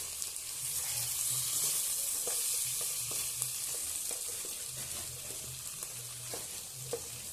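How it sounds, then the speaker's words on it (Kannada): Chillies, onions and tomatoes fry in oil in a pan, a steady hiss of sizzling with occasional stirring clicks and scrapes, close and continuous without talk. "ಈಗ 5 ಮೆಣಸಿನಕಾಯಿ ಪಾತ್ರೆಯಲ್ಲಿ 5 ಮೆಣಸಿನಕಾಯಿ, 2 ಈರುಳ್ಳಿ ಮತ್ತು 2 ಟೊಮೆಟೊನ ಫ್ರೈ ಮಾಡ್ಕೋಣ"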